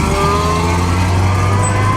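Supercharged Maserati engine at the Mille Miglia rally, a loud steady close-range idle with a deep throbbing tone and faint whine, heard alone without talk.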